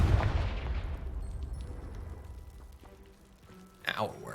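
A Confringo spell blast in the video game Hogwarts Legacy bursts with a sudden loud explosive boom that decays into a fading rumble, followed by a brief softer crackle.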